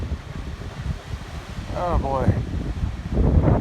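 Wind blows hard through trees on a very windy day, a continuous rushing roar that swells toward the end while someone briefly speaks over it.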